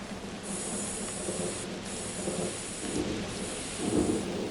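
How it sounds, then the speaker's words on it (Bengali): A thunderstorm with heavy rain as an audio drama effect: low thunder rumbles swell repeatedly beneath a constant loud hiss of pouring rain, with no voices present. "মুষলধারে বৃষ্টি শুরু হয়েছে।"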